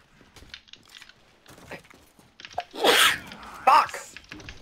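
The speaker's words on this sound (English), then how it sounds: "I'm having a sneezing fit while mid-shotgun." A person in a sneezing fit while playing a shooter game: a couple of loud, sharp sneezes stand out after softer movement and murmuring, with someone talking around them.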